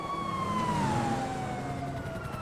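A police siren in a roleplay video game wails with a single slowly falling tone that holds steady and fairly loud over a constant rumbling background.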